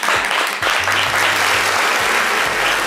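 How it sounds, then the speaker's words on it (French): Dense, loud applause from a radio show's live audience rolls on steadily for the whole stretch, a continuous wash of many hands with faint low voices underneath. "on peut l'applaudir très très fort"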